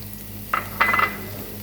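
Virgin olive oil hits a hot pan in a kitchen, giving two short, close sizzling bursts over a low steady hum, then fading.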